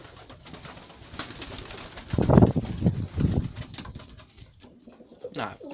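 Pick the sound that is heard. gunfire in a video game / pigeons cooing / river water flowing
pigeons cooing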